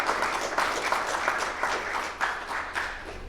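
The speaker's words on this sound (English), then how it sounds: "a quick round of applause." An audience at an evening talk gives a quick round of applause, steady dense clapping from a moderate-sized crowd, sustained and fairly close throughout with no talk over it.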